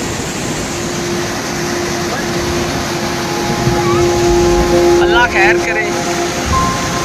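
Steady roaring rush of fast-moving river flood water after rains in Azad Kashmir, flowing over the top of a structure, fills the scene, with someone speaking briefly over it and some wind noise.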